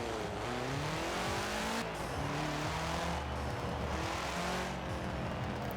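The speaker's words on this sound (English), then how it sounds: "It's a little bit too shouty in this game, the STI." A Subaru STI in Forza Horizon 4 revs hard through rising and falling gear pulls, loud and close, with a sharp, shouty engine note that breaks briefly between shifts.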